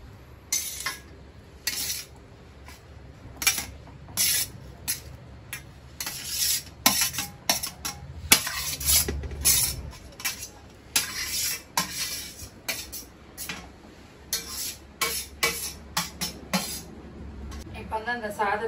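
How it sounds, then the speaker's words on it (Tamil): Cooked rice being mixed with tomato thokku in a kadai: intermittent scraping and clinking of a spoon against the metal pan, irregular stirring strokes close by, with a voice talking over parts of it. "ஸோ நம்ம இப்படி வந்து மிக்ஸ் பண்ணணும் அந்த தக்காளி தொக்கோட"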